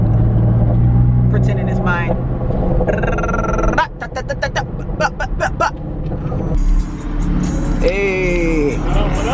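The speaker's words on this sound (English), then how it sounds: "I'm just enjoying the sound of this exhaust since I'm super stock with it" A stock car exhaust rumbles steadily close by while people talk and laugh over it, the drone shifting in tone as the vehicle moves.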